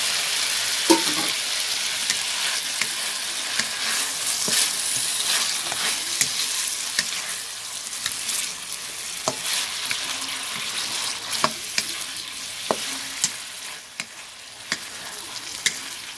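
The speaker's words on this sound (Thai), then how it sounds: "แล้วก็ผัดไปเรื่อยๆนะ" Home-grown bean sprouts stir-fried Thai-style in a pan: a steady, close sizzle with repeated scraping and tossing clicks throughout, no talking.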